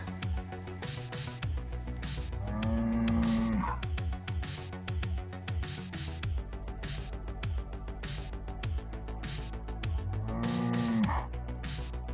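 A Highland beef breeding bull, aged four to five, lows twice on a farm pasture fenced with electric wire, each moo drawn out over a busy background of chirping and outdoor ambience.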